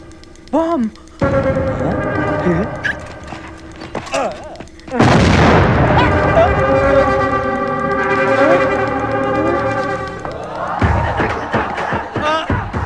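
Bombs explode in a comic scene from a Telugu feature film: loud booming blasts, the biggest near the middle, are mixed with shouting voices, crowd noise and a background score.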